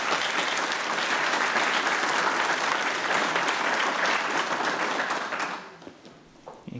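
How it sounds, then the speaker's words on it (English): Applause from a ceremony audience at a medical college event, a dense, steady wash of many hands filling the room for several seconds before tapering off, with a few scattered claps trailing at the end. "Almost beat the applause to the podium."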